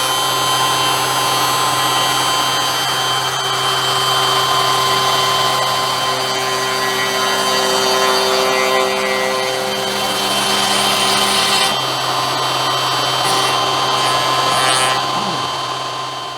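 A CNC router makes steady surfacing passes across a wooden sign board, a continuous loud motor whine and spindle hum with a constant pitch. The cutting runs on for the whole stretch, with only slight shifts in the grinding texture.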